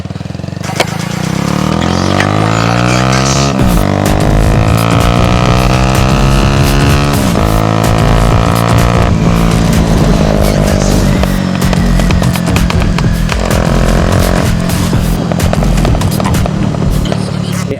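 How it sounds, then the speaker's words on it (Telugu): A modified Bajaj Avenger motorcycle with a loud aftermarket exhaust revs hard and continuously, its pitch rising and falling through repeated throttle blips, close and very loud throughout. "బైక్ అయితే ఇటువంటి ఎగ్జాస్ట్ అయితే మంచిది కాదు"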